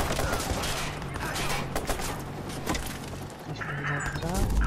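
Game gunfire in Watch Dogs: a steady stream of shots and impacts, fairly dense and mid-level, with someone talking over it.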